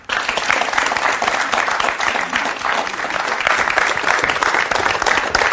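A television talk-show studio audience breaks into steady, dense applause to welcome a guest, loud and sustained throughout with no break.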